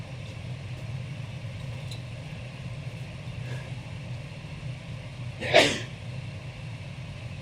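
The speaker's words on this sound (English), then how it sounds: "Sorry about that, had to sneeze." A single sharp sneeze bursts out near the microphone over a steady low rumble like an idling engine, then the room falls back to the hum.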